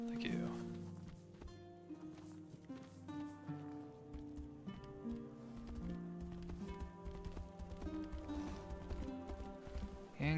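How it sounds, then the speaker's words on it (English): A horse gallops in the fantasy video game Tainted Grail, rhythmic clip-clop hoofbeats running under a loud, sustained musical score with no voices. "let's call the horse"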